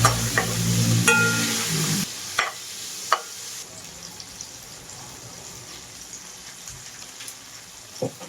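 Garlic, onion and tomato sautéing in a pan, giving a low steady sizzle with a few sharp clinks of stirring, close and fairly quiet, no voices.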